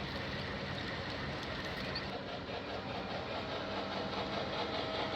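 A Key Brass Allegheny model steam locomotive runs on a large layout, giving a steady, continuous rumbling roll with a faint hiss and no talk, heard close and level throughout.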